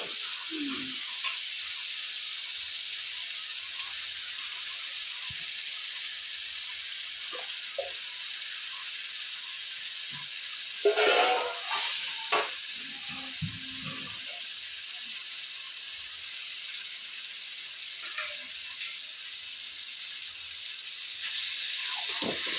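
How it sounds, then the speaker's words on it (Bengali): Chicken frying in spice masala in a pan, a constant soft sizzle with occasional stirring clatters and scrapes of a spoon, close and moderately quiet. "আমি মশলাটা কষাতে এবার আমি চিকেন দিয়ে দিচ্ছি"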